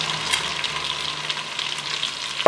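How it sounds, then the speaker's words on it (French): Onion and bell pepper strips frying in a pan, a steady close hiss and sizzle with light stirring, no talking, ending in a small knock. "on va cuire les oignons"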